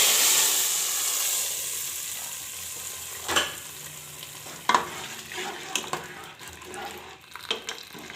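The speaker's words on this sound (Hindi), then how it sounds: "तड़का डाल दूंगी।" A tempering of garlic, bay leaves and whole dried red chillies sizzles in hot oil for dhaba-style dal, a steady close frying hiss broken by sharp crackles and spits and the scrape of a stirring spoon.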